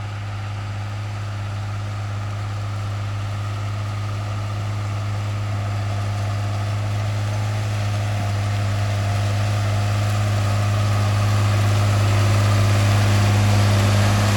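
A John Deere 8560 tractor engine pulling a disc to prepare a field, heard as a loud, steady low drone with a strong hum that swells slightly toward the end, no talk.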